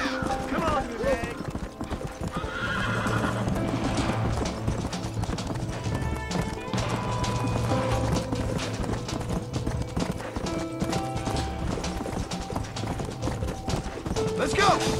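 Hoofbeats clip-clop steadily with occasional horse whinnies in Red Dead Redemption, layered over dense music and game-like shouting throughout.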